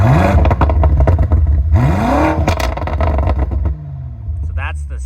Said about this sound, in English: So that's the stock exhaust